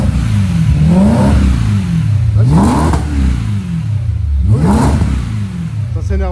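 A BMW M3 E92 with its V8 revved up hard in three rising sweeps, each climbing in pitch and dropping back to a steady idle between, loud and close with little else around it.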